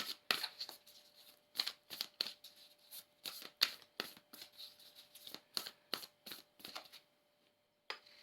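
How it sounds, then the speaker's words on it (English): A deck of answer cards being shuffled by hand, a quick run of crisp riffling and flicking bursts in uneven succession, close and quiet, ending with a brief pause and one last snap, no talking. "I'm just going to pull one more card out of the answer deck here"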